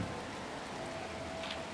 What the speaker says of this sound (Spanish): Me está lloviendo.